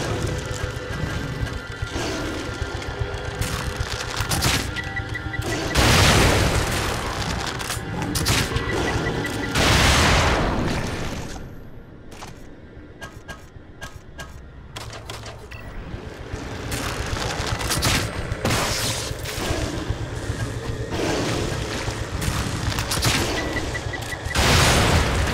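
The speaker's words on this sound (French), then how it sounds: "Les grenades. Les grenades." Repeated grenade blasts and heavy impacts in The Evil Within, a survival horror game, with loud broadband bursts recurring over a sustained noisy battle din and no talk.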